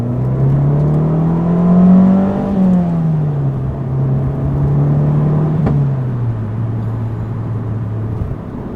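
A car engine revs in long, loud sweeps, rising and falling as it is held high and then eased off. No speech is heard.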